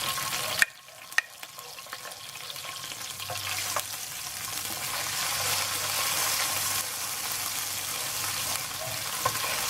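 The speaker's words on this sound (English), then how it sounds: "We're going to keep like mixing, sauteing." Anchovies, garlic and spices hit a hot pan for spaghetti alla puttanesca with a sharp clatter, then settle into a steady close sizzle and frying hiss as the mixture is stirred.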